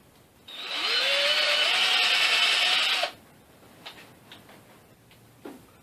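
A drill bores a countersink into a wooden cross brace for a homemade drinking game, one steady loud whine of about two and a half seconds with a rising pitch, followed by a few faint clicks and taps.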